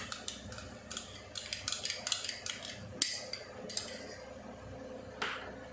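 A spoon stirs soybean wadi with cream in a kadhai, giving light scattered clinks and scrapes against the metal, close but fairly quiet, with no talk.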